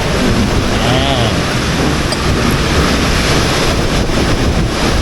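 Loud surf on Lake Toba, Indonesia, washing in continuously during a storm, with heavy wind buffeting the microphone throughout.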